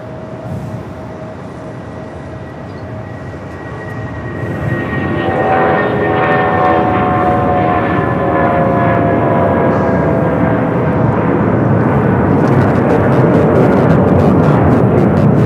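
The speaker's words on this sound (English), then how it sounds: "This is United Airlines 1164 taking off to Newark on the 757-200." A United Airlines Boeing 757-200 takes off from LAX bound for Newark, its jet roar swelling after a few seconds into a loud, steady rumble with whining engine tones layered on top.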